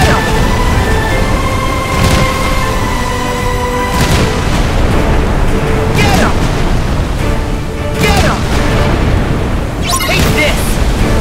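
Cannons boom at the Flying Dutchman during a Kingdom Hearts 3 ship battle, a dense, continuous wash of explosive bursts with repeated sharp blasts over steady rumbling game noise and music.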